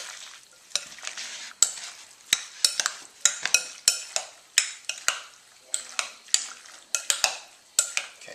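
Ingredients being folded into a shrimp guacamole, heard as a steady run of close, sharp scraping and tapping strokes of a utensil against a bowl, repeating rhythmically with no talking.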